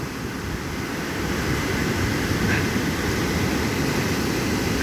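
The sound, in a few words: ocean waves breaking on a beach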